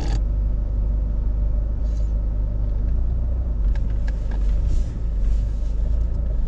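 A smoking Fiat Ulysse engine running while the car is driven, a steady low rumble with road noise, continuous and close, with a few faint clicks and taps over the drone and no speech.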